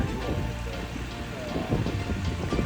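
Rain falls steadily on a surface, a soft constant patter with faint speech-like murmurs underneath.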